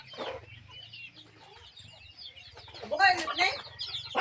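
Chickens clucking in a backyard vegetable garden, a busy low chatter of hen calls that grows louder toward the end, with other bird sounds mixed in.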